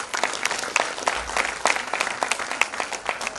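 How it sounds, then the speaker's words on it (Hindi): An audience at a business event gives loud, sustained applause, with individual sharp claps standing out in a dense, close crowd of clapping and no speech over it. "आप खुद के लिए एक बार जोरदार तालियां बजाओ"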